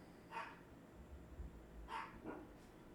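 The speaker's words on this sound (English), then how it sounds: "the dog's always barking" A dog barks twice, faint and distant in a quiet indoor room, with a short gap between the sharp yaps.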